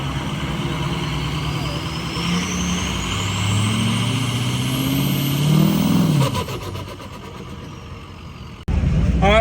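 BMW race car with a 6-liter engine at Bristol drag strip, its engine droning and revving steadily close by, pitch climbing and then dropping as it drives, with a cut near the end.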